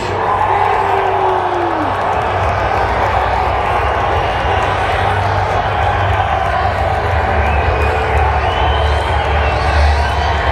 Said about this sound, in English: Maple Leafs fans cheer.